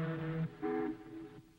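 A voice imitates a ship's horn with a low, droning hoot followed by a second, higher blast.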